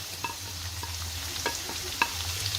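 Chopped onions fry quietly in oil with a soft, steady sizzle, punctuated by a few light scrapes and taps of a stirring spoon.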